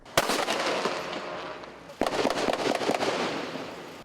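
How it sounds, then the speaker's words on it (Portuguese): Rapid cracks of gunfire aimed at police on the ground in Rio de Janeiro ring out in sharp bursts, a loud shot near the start and another cluster around two seconds, with echoing reports between. "Em terra, os policiais eram recebidos a tiros."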